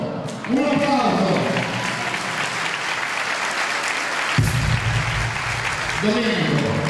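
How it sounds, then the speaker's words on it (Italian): Sustained applause from an Italian audience at a show featuring a small boy dancing, steady clapping with a voice speaking over it at the start and end. "Un applauso."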